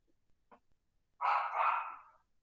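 A house dog gives a single clear bark at moderate distance during a recorded lecture. A faint yelp comes just before it, and the room is otherwise quiet with no speech.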